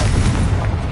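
A Confringo blasting spell explodes in the video game Hogwarts Legacy, a deep rumbling boom that fills the whole second, loud and heavy.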